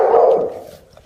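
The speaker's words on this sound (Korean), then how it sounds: "도우미관이 곧바로 큰 소리로 짖어 주위에 도움을 요청합니다." An assistance dog gives one loud, close bark calling for help, fading quickly afterward.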